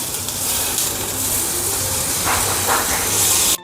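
A whole tomato drops into a pan of sizzling onion, ginger and garlic for misal, giving a loud, steady hiss and steam-like sizzle that runs throughout, with a brief burst of crackling near the end.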